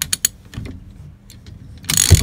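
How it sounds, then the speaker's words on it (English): Steering lock on a 1971 VW Beetle engaging after the key is pulled: a few quick mechanical clicks and a ratcheting rattle, close up, ending in a louder clunk. "Steering wheel should lock."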